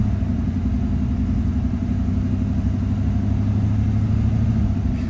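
A Saleen car's engine idles with a steady low rumble, a faint surge hinting at revs rising and falling on their own; close and continuous, no talking.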